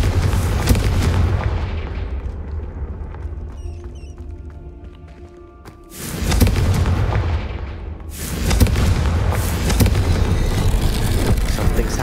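Blasting-spell explosions go off in the video game Hogwarts Legacy: booming bursts around the opening, then two heavy blasts about two seconds apart followed by rumbling debris, loud and near.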